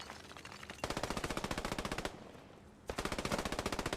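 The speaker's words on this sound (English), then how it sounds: "A flanking support by a German MG here." A German MG machine gun fires in a World War II video game, sounding as loud rapid sustained bursts of automatic fire with a brief pause between two long strings.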